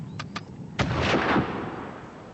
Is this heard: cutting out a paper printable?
no